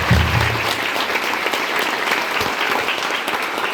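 A parish gathering gives Father Rigo a burst of steady, close applause that lasts several seconds, with faint voices underneath.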